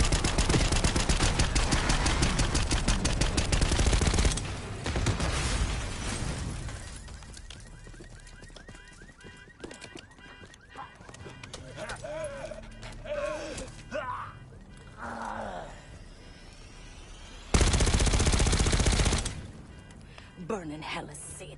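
Gunfire in a Black Ops 6 campaign mission: heavy sustained automatic bursts, loud and continuous at the start, then a quieter stretch with voices and scattered sounds, then another loud burst near the end.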